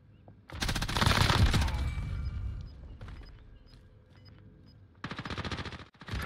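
Bursts of gunfire in a battle royale shooter game: a loud, close automatic burst, then scattered quieter shots and impacts, then another sharp rapid burst near the end.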